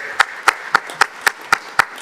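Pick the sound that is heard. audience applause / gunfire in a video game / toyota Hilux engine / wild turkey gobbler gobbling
audience applause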